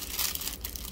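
A small plastic bag holding fashion doll clothes crinkles briefly and softly up close, a short rustling burst with no talking.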